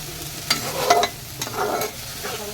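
A vegetarian jackfruit curry is stirred in a little oil in a pan, with a few close spoon scrapes and bursts of frying sizzle, no voices present.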